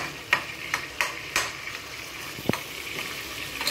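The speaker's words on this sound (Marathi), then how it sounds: "आपण चांगल्या प्रकारे परतून घेणार आहोत कांदा आणि टोमॅटो" Onion and tomato are stirred and sautéed in a pan for a prawn biryani, a spoon scraping in a few distinct strokes over a soft, steady sizzle, close by and without talk.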